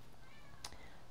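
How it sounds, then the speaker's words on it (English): A house cat lets out a single faint meow against a steady background hum of quiet room noise. "oh, that's the cat."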